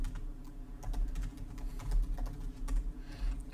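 Code is typed on a computer keyboard in a quick, uneven patter of close key clicks and thumps, steady throughout with no voices.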